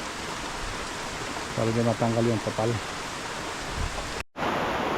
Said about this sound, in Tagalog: Grabe yung masyate, ang lakas ng ulan